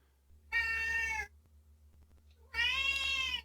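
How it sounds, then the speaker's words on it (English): A pet cat meows loudly twice indoors, each meow drawn out and insistent, with a short quiet gap between them and no talking. "Why does my cat have to meow?"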